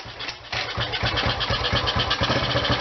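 A Honda CT90 motorcycle engine catches after a brief moment and settles into a steady, close, loud putter of even firing pulses.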